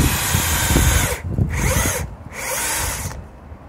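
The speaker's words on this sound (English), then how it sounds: "get my pilot holes in again on this side" A power drill bores pilot holes in wood while a compost sifter is built, its loud whine running in three close bursts with brief drops in between.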